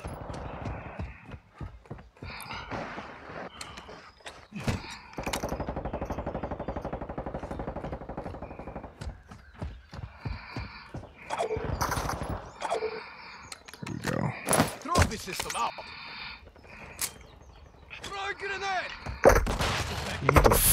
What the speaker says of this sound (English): Who the fuck is shooting at me, bro?